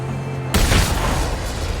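A shotgun blast in the Mad Max open-world video game: a single sudden heavy boom cuts in after a brief steady hum, then a dense rumbling tail lingers loudly.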